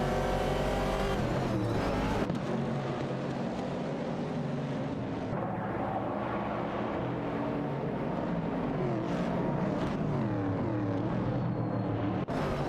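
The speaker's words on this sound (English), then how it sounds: "with a mix of Chevrolet Camaro 69 and Dodge Dart cars on the track" Video game race cars, a mix of 1969 Chevrolet Camaros and Dodge Darts, roar continuously on a track, their engines layering into a loud, steady drone with rising and falling pitch as cars shift and pass.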